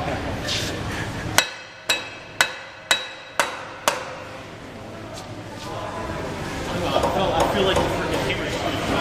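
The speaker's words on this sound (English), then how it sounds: "Justin, where's your sledgehammer?" Sledgehammer striking the cast casing of a Goulds 23SH pump during seal replacement, six sharp metallic bangs in quick, even succession, followed by quieter shuffling and faint background voices.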